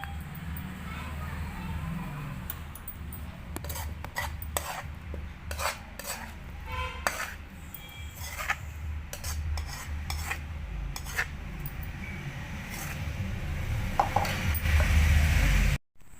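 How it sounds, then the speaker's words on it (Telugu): Gongura chutney ingredients are pounded in a stone mortar, giving irregular close knocks and grinding scrapes of stone on stone that grow louder toward the end. "ఇది మెత్తగా దంచుకోవాలండి. పొడి అయిందాక దంచుకోవాలి."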